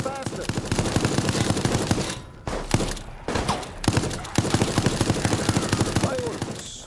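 Automatic gunfire in Resident Evil Resistance, long loud bursts of rapid machine-gun shots broken by brief pauses, with voices speaking underneath.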